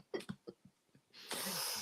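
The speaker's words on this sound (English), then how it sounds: "Dry cough." A man gives a few short, quiet dry coughs that end in a breathy burst, close and faint.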